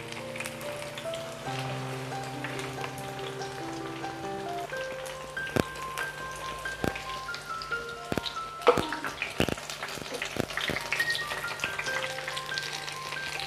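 Jackfruit fritters (chakka pori) frying in hot oil, a steady dense sizzle and crackle over the whole stretch with occasional sharper pops and clicks in the middle, close by and without talk.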